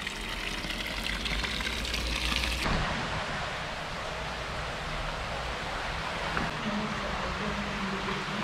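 Water running at an outdoor washing place along a rural pilgrimage route in France, a steady broadband rush and splash throughout, fairly close. The texture changes partway through.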